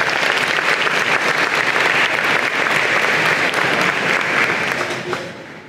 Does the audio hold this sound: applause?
yes